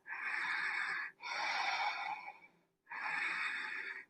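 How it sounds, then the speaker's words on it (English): Strong Ujjayi breaths during a vinyasa yoga flow: three long, loud, hissing breaths, close and alone, with brief pauses between them. "Strong Ujjayi breaths."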